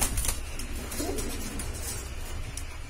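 Shahjahanpuri pigeons coo softly in a loft against a steady background hum, with a brief faint coo rising near the middle.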